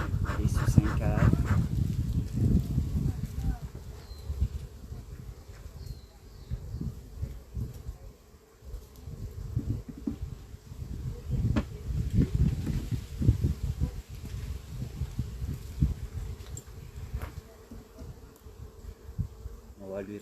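Honey bees buzz steadily around an open beehive during a hive inspection, a dense low drone close to the microphone, with occasional handling noises.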